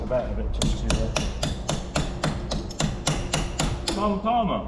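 Sharp metallic hammer blows ring out in a steady rhythm, about a dozen strikes, while working on the front pin of a potato harvester outdoors on a farm; faint voices murmur before and after the hammering.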